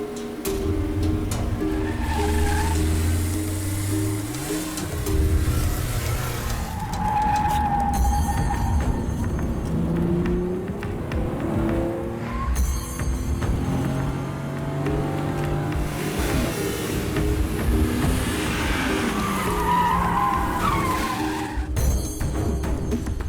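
A car pulls away with its tires skidding and squealing amid loud engine revving in a Hindi action film scene, the whine rising and falling over roughly twenty seconds alongside scattered crashes and music.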